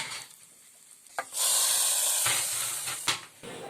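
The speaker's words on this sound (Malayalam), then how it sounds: "കടുക് പൊട്ടിച്ചതിന് ശേഷം കറിവേപ്പിലയും വെളുത്തുള്ളിയും ചേർക്കുന്നുണ്ട്" Curry leaves and garlic tossed into hot oil with popped mustard seeds for a tempering burst into a loud, bright hiss and sizzle that swells after a quiet start and holds close up, with brief spatter spikes and no voices.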